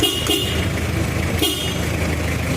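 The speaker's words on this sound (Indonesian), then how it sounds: "Klaksone banter tenan." An old car's horn honks loudly in sustained blasts, close and steady, with a brief engine or starter rumble beneath.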